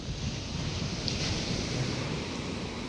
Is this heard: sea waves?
yes